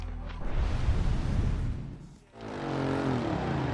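A 2015 Ducati Scrambler 800 Icon motorcycle engine roars loudly under hard acceleration, briefly dipping around a gear change before pulling again in fourth gear with a rising, steady drone.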